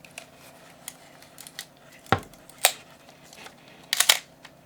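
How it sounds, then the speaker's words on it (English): Shutter of a dirty, grimy Pentax K1000 film camera with a hazy lens firing, a few sharp mechanical clicks and snaps spaced apart amid quieter handling noises, close and alone. "Wow, the shutter did fire."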